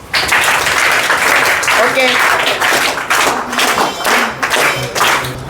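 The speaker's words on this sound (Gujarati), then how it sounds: "બધા તાળીઓથી તેમને વધાવો" Students give a welcoming round of steady clapping for a speaker at a school spoken-English activity. The applause is loud and close and fills the room without a break, with a few short spoken bits under it.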